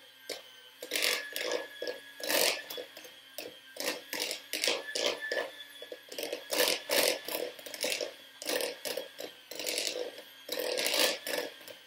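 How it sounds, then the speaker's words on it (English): A spatula scraping around the sides of a mixing bowl holding a whole wheat flour mixture, producing repeated rasping strokes in a steady back-and-forth rhythm, close and moderately loud with no voices. "Scrape the sides"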